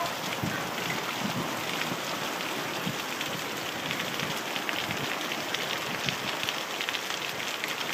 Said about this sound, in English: Oh my god, in a matter of minutes, look how much rain fell.